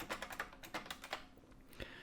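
Quick, steady keystrokes clatter on a computer keyboard as git commands are typed, a dense run of close clicks with one sharper tap near the end and no talking.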